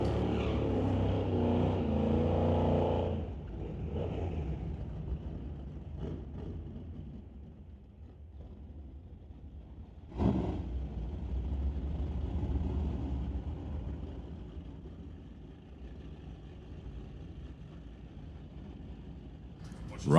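A drag racing car at a race track, with Rob Monroe in the Blue Acadian pulling up: a loud engine roar that fades to a steady low rumble, then a sharp surge of revving around the midpoint, with a commentator talking over much of it.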